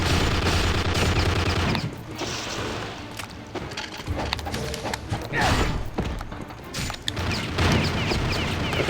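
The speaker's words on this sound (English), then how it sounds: "their machine guns attack so fast" Enemy machine guns fire in Ninja Gaiden Sigma, a dense, loud barrage of rapid shots and thuds that runs nearly unbroken, with brief dips between bursts.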